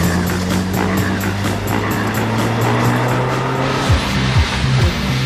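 Getaway car speeding off, engine revving with a rising whine, then short tire squeals and skids near the end, loud and close with no talk.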